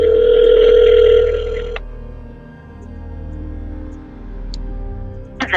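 A telephone line gives a loud, steady ringing tone after a number is dialed, then drops to a quiet line hum with faint ticks and clicks, close and without any voice.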